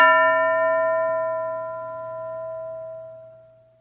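A single bright school bell strike rings out and slowly decays, its clear metallic tone lingering for several seconds with no talking.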